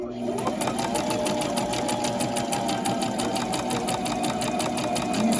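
A sewing machine stitches fabric for an A-line overgarment with a fast, even, close-up mechanical chatter that runs continuously, while someone talks over it.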